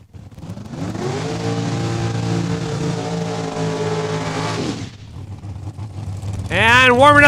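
A Bantam Altered drag race car at Saskatchewan International Raceway roars loud and steady as it warms up its rear tires, engine holding a sustained high rev before cutting off, then revving up again sharply near the end.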